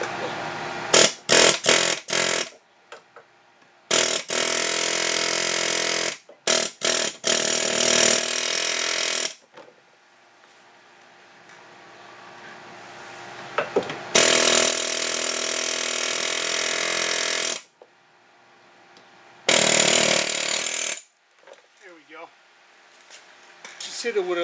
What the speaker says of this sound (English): I'm going to try to gently hit it with an air hammer and just see if I can break it loose